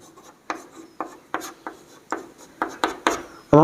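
A mirror formula being written out by hand, with rhythmic, scratchy strokes about every half second, close and distinct, followed by a brief louder rub at the end.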